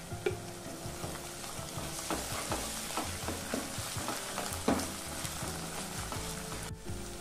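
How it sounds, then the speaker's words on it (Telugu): Ginger garlic paste being stirred into onions frying in a pan for aloo matar mutton keema: steady close sizzle with repeated scraping stir strokes throughout, no talking. "ఉల్లిగడ్డ కొద్దిగా వేగాక ఇందులోకి 1 టేబుల్ స్పూన్ అల్లం వెల్లుల్లి పేస్ట్ వేసుకొని కలుపుకోవాలి"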